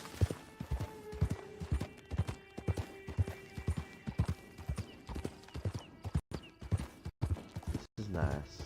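Steady clip-clop of a horse's hooves while riding in Red Dead Redemption 2 Online, a regular galloping rhythm with a brief whinny near the end, a voice talking faintly underneath.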